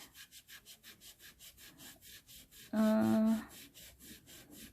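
A magic eraser sponge scrubs watercolor paint off paper in quick, even back-and-forth strokes, close and fairly soft, broken briefly by a short electronic beep.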